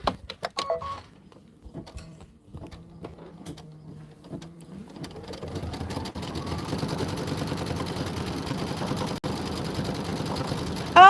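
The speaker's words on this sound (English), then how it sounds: "I'm going to go to 600 stitches per minute." Embroidery machine on a 10-needle stand stitching a Kimberbell Let It Snow pillow design at 600 stitches per minute: scattered clicks and thumps at first, then a steady rapid mechanical chatter that builds and runs continuously to the end.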